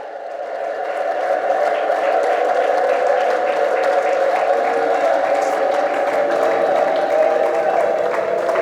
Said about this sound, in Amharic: እስቲ በታላቅ ጭብጨባ እልልታ ጌታን አክብሩት።